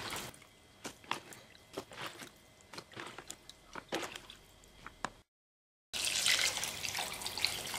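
Water poured over split olives in a bowl: soft irregular splashes and squishy sloshing at close range, then a short gap, followed by a louder continuous pouring rush.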